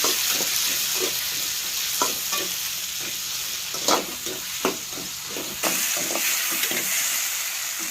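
Onions and tomatoes fry in oil for biryani with a loud, continuous sizzle, punctuated by regular scraping strokes of a spoon stirring the pan up close.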